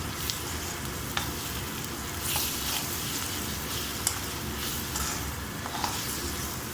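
Meal maker fries in a pan with ginger garlic paste and chili powder. A loud, steady sizzle runs throughout, broken by scraping stirs and light clicks of the spoon.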